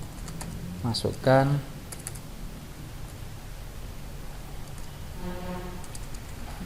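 Keys are tapped on a computer keyboard in short quiet bursts of clicks, with a person speaking softly over the typing.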